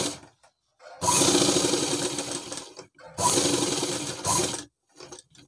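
A sewing machine stitches fabric for a girls' school dress, running loud and close in two steady bursts of a second or more each, with short quiet pauses and light handling sounds between them.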